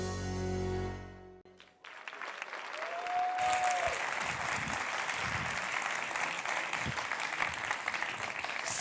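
Audience at a gala ceremony bursting into sustained applause and cheering after a brief lull, a dense steady wash of clapping from a large crowd that carries on to the end.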